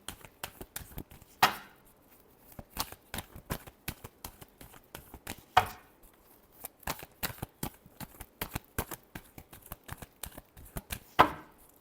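Tarot cards being shuffled by hand, a steady stream of quick, crisp riffling clicks and slaps with a few louder bursts, close and fairly soft.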